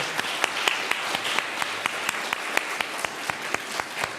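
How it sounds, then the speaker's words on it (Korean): A church congregation applauds together after a call to thank a volunteer who arranges the altar flowers each Saturday. The clapping is steady and dense for the whole span, with sharper individual claps standing out over the crowd. "수고하신다고, 감사하다고 한번 박수 한번 쳐드리면 좋겠습니다"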